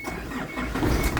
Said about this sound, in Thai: เดี๋ยวสตาร์ทเครื่องให้ฟังครับ